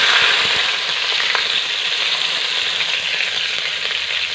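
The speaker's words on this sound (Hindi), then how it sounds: "अब इसमें हम हरी मिर्च डालेंगे" Green chillies go into a pan of frying fenugreek and bathua greens, with a loud, steady, close sizzle and a few stirring scrapes, no voices.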